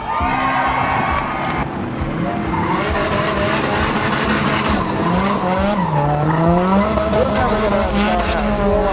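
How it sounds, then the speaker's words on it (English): Drift car ripping a burnout at a Drift Masters event in Ireland, engine roaring loud and steady with wavering tire squeal throughout, a crowd faintly cheering underneath. "Who wants to see me and Becky rip some burnouts?"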